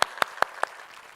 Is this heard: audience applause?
yes